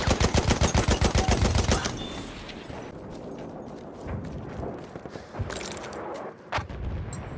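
Rapid machine-gun bursts in a video game hammer loudly and close for the first couple of seconds, then give way to scattered single shots and distant pops from a fight.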